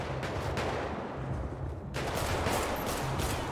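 Rapid SMG gunfire in GTA 5 roleplay, sounding as dense, continuous bursts of shots that fill the whole clip, with a short gap near the middle before the firing resumes.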